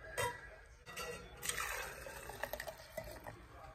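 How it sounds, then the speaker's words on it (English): French vanilla cappuccino poured into a cup, a close liquid pour and trickle with splashy bursts and small drips, moderately loud and heard alone. "Pour that in this cup."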